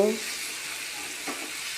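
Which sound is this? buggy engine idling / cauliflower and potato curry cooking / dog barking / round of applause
cauliflower and potato curry cooking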